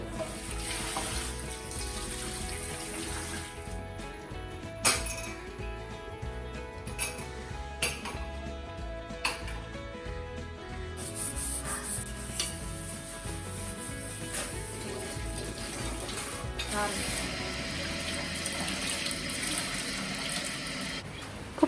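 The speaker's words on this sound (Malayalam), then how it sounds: "ഇനി ഇവിടെയൊക്കെ ഒന്ന് ക്ലീൻ ചെയ്ത് പ്ലേറ്റൊക്കെ ഒന്ന് കഴുകി ഒന്ന് റെഡിയാക്കി എടുക്കട്ടെ." Running water from a kitchen tap splashes into a sink as plates are washed, with occasional clinks of dishes over a steady flow lasting throughout.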